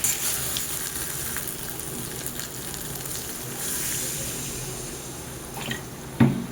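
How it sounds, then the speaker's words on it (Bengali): A small amount of water poured into a pan of frying mutton fat and heart curry, a hissing sizzle with watery splashes and a sharp clatter near the end. "এবার আমি এতে পরিমাণ মতন জল দিয়ে দেব।"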